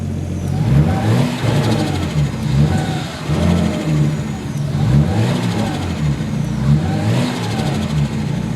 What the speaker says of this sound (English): The turbo actually works now.